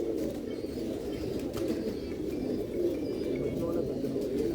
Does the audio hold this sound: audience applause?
no